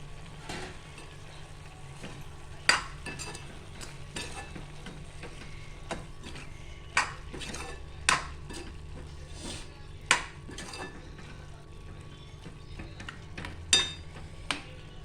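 A spoon stirs banana flower stir-fry with grated coconut and salt in a pan, a soft steady sizzle broken by scattered sharp clinks of utensil on metal, quiet and close with no talking.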